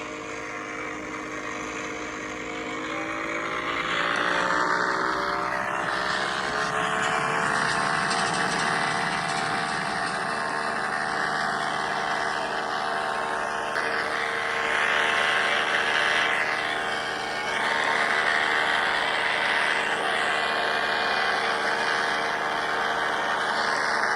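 Airplane engine sounds from a phone airplane game app play steadily for about twenty-four seconds, a droning, propeller-like hum with rising pitch early on, fairly loud and continuous with no talk.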